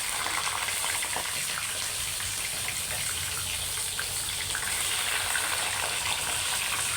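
Chicken pieces dropped onto browned onions in a karahi set up a steady, loud hiss of frying that runs evenly from start to finish with no talk.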